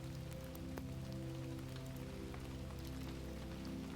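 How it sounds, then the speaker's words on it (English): Rain patters steadily on the roof of an old Chinese teahouse, a soft, even hiss of dense drops with faint scattered taps, quiet and continuous. "the sound of the rain on the roof of his teahouse"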